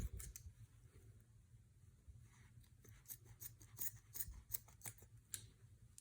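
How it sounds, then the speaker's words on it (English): Scissors snip through the yarn loops of a homemade pom pom, a quick series of crisp, close cutting clicks over a soft, quiet background. "I want to cut all of these loops."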